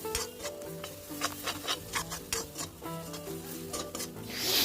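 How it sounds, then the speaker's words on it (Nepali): Gram flour and onion stirred and fried together in a pan for a Tibetan vegetable thukpa, giving a steady run of scraping, rubbing spoon strokes against the pan with a faint sizzle underneath, close and without talk. "अब यो बेसन चाहिँ मजाले खैरो नहुन्जेल भुट्नुपर्छ। बेसन र प्याजले मजाले सँगै भुट्नुपर्छ है।"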